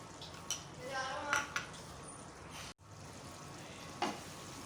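Beef keema frying in a pan as yogurt is added, a steady broadband sizzle with a few brief clinks and stirring scrapes, one short dropout midway.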